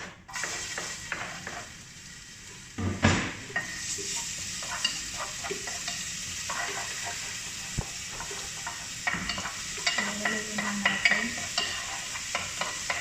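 Onions frying in a pan for a lunch dish, a steady close sizzle with stirring and occasional utensil scrapes against the pan, heard alone with no talking.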